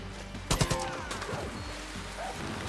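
Gunfire in the video game Far Cry New Dawn, a close burst of several rapid loud shots followed by a decaying echo and lingering game ambience.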